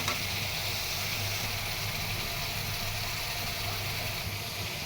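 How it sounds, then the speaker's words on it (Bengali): Masala spices sauté in a pan with a steady, unbroken sizzle that holds at an even level throughout, with no talking. "এই যে মশলা কষানো হচ্ছে।"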